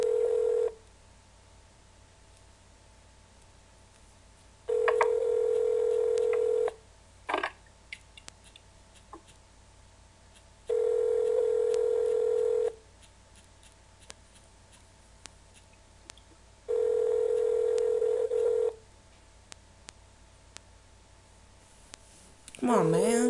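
Repeated telephone ringback tones, long steady buzzes in even bursts, sound while a prank call to a shoe store waits for an answer, with faint clicks between rings and a brief voice near the end.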